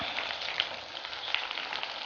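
Onion rings fry slowly in oil over low heat, giving a steady soft sizzle with faint crackling pops, close and alone without any voices.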